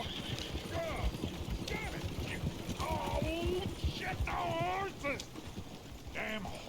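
Horse hooves clip-clop along in Red Dead Redemption, rhythmic and mid-distance, with game voices and bright tonal calls over a busy background.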